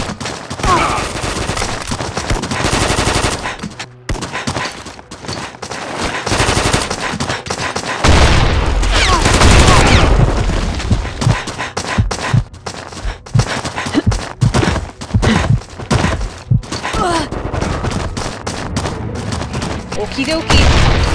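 Dense, sustained gunfire from a video game battle, with rapid machine-gun bursts and booming explosions rolling almost continuously and loudly throughout.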